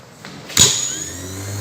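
A car starter motor is powered straight from a battery on a bench test: a sharp click as it engages, then a steady whirring spin that carries on to the end.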